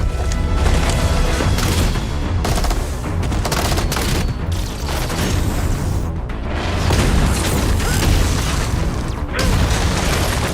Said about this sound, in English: they do not hold back and begin showing off their Spartan abilities, mainly the ground pound